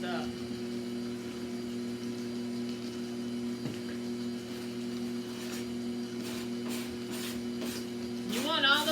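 An electric mixer beating homemade chocolate icing in a bowl, a steady mechanical hum with a constant motor whine, and a voice speaking faintly near the end.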